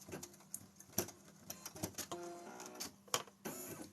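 An embroidery machine stitches bows onto felt with a faint, busy mechanical patter of rapid needle clicks and intermittent louder taps, steady throughout.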